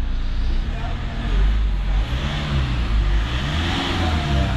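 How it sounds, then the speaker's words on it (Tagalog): A Mitsubishi Montero engine with a suspected noisy fan belt is revved, a loud low rumble swelling and easing in repeated surges, with people talking over it. "Nire-rev natin"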